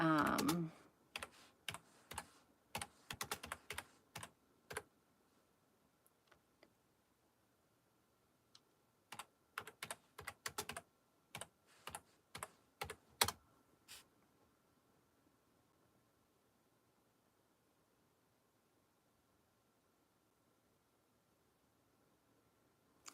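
Typing on a computer keyboard: quick bursts of sharp key clicks in irregular clusters, separated by quiet pauses, close and clear, fading out to near silence at the end.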